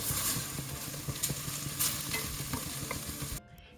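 Onion and garlic sizzle and fry in a pan for strogonoff, a dense close crackle broken by occasional stirring scrapes, with no voices, before it cuts off near the end.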